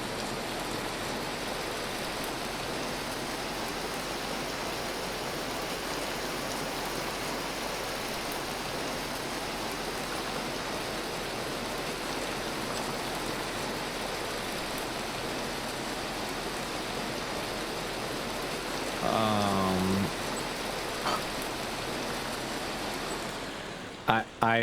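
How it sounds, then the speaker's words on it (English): Hail pelting down during a storm in the survival game Vintage Story, a dense, loud, steady hiss of impacts filling the whole stretch, with a brief brighter sweep of another in-game sound near the end. "but like that hail is just awful."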